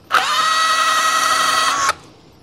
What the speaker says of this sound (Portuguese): A parafusadeira e furadeira Bosch 18V50 me surpreendeu no furo aqui desse concreto